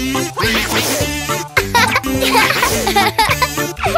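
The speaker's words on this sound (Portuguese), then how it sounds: "Acho que talvez o pato tenha pego o resfriado da Elly." Cartoon duck quacking in a Brazilian Portuguese animated children's episode, a run of loud, raspy, congested-sounding quacks repeated in quick bursts over bright background music.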